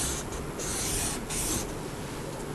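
Paper is cut into a square with a continuous dry rasping hiss, close and fairly soft, swelling in two or three long strokes without any talking.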